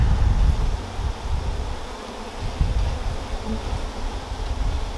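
A thick, continuous drone of many honey bees buzzing close up inside a hive, steady and humming without pause.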